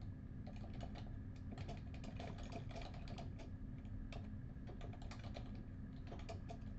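Computer keyboard typing, a quick irregular run of light key clicks close up over a steady low hum, with no talk.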